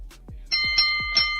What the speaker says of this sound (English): That's a bell.